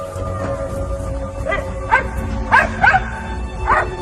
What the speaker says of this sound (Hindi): भौंकने की आवाज आ रही थी